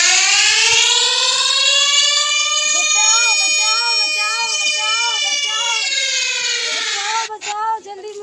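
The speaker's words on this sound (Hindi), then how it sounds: "अब देखिए सायरन बजते ही" A flood warning siren wails loud and steady, a held electronic tone with a wavering pitch that drops and falters near the end while voices are heard beneath it.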